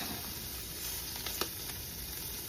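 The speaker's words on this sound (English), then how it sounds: "I'm going to put some bacon in the other frying pan" Bacon sizzles in a frying pan, a steady, even hiss of frying fat with a few faint pops and no talking throughout.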